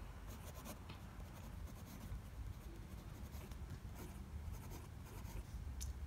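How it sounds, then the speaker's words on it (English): Steel fine nib of a Wingsung 699 fountain pen, inked with Diamine blood orange, scratching across paper in a steady, soft stream of short strokes, close and quiet, with no talking. "I'm just going to do a very quick writing sample here with the Wingsung"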